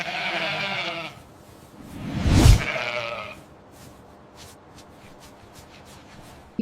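A Dorset ewe gives one loud, close bleat near the start, followed by quieter rustling and shuffling of livestock, with no talk.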